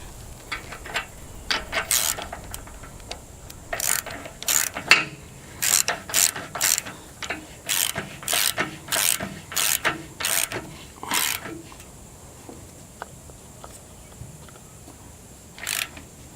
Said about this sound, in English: Let's get our bolt tightened up here.